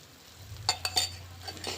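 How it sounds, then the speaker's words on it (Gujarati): Spoon stirring a milk peda mixture with cardamom powder in a hot kadai, giving a few light scraping clinks of metal against the pan over a low steady hum. "હવે હલાવી રાખવાનું।"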